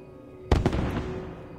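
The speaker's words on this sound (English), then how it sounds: "Oh, it's a firework." A single sharp firework burst in Assassin's Creed 2 pops loudly, followed by a quick second crack and a fading crackling tail, with no voices.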